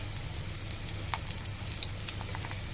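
Food frying in a small amount of hot oil on a low gas flame, a soft, steady sizzle with faint crackles throughout, quiet and even with no voices.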